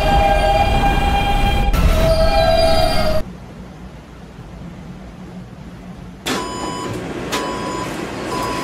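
A B subway train rumbles loudly at a station platform with tonal whines and chimes, then goes briefly quieter before the rumble and tones return.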